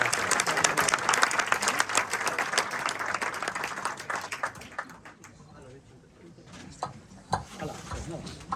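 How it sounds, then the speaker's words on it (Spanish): An audience at a book presentation claps in a dense burst of applause that gradually thins out into scattered, uneven claps. "un aplauso"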